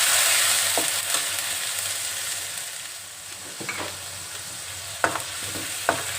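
Onion and coconut paste fries in a pan, sending up a constant loud sizzle that slowly fades a little, broken by a few sharp stirring scrapes and taps, with no one speaking.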